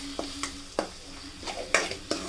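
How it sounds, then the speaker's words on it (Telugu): A spoon stirs chili powder, salt and turmeric into paneer curry masala frying in a pan, with a soft sizzle under several distinct scraping strokes at an irregular rhythm. "కారం కూడా యాడ్ చేసుకొని ఒకసారి కలిపేసుకుందాం."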